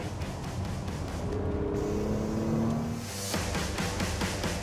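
A 2018 Porsche Cayenne E-Hybrid drives with a steady, smooth engine and road noise throughout, a low hum that swells slightly toward the end, with no speech.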